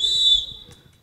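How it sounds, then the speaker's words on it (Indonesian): A referee's whistle sounds one sharp, sustained blast to start a friendly football match, with crowd and player voices murmuring faintly underneath. "Peluit telah ditiup, pertanda bahwasanya pertandingan telah dimulai."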